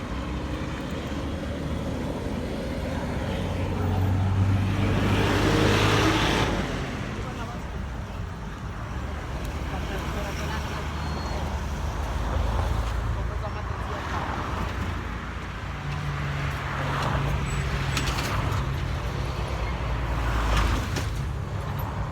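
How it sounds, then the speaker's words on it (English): Cars passing by on a road, two swelling whooshes as vehicles go past, the first near the middle and another later, under a steady traffic murmur with people talking. "Let's wait for the cars to stop."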